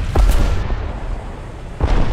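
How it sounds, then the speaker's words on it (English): Explosions in the combat video game War Thunder: a loud opening burst of booming blasts and gunfire that fades into a rumble, then another heavy boom near the end. "I hear explosions."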